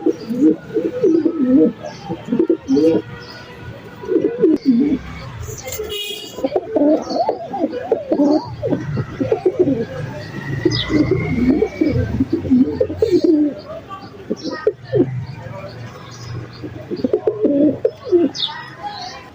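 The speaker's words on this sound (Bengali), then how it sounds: "ছাড়লাম, একটু ফ্লাইং করতেছে তারা।" King pigeons coo in repeated low, throaty phrases close by, mixed with brief chirps and a burst of wing flutter as the birds fly about.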